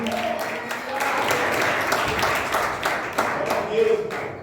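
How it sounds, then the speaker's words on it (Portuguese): A church congregation claps in a broad, continuous wash of applause that stays moderately loud for several seconds, with voices mixed into it and a brief tonal sound near the end. "Se você que recebe, aplauda bem forte, Jesus."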